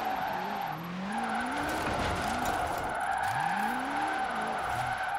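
A one-gear hypercar drifting and spinning out in the Forza Horizon 4 racing game, with a loud engine drone and long rising and falling tire squeals as the car slides, no speech.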